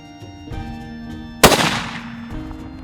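A single loud hunting rifle shot at a roebuck in open Hungarian grassland, a sharp crack followed by a rolling echo that decays over about half a second, over a faint background hum.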